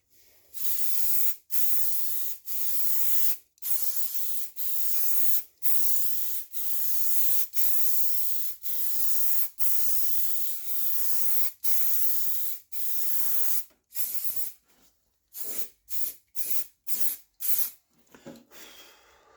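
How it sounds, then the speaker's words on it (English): Halfords clear lacquer sprayed from an aerosol can onto old Mopar car bodywork: a long series of loud, close hissing bursts, each a second or two long with brief gaps, speeding into shorter quick squirts near the end. "What I'm using is Halford's clear lacquer."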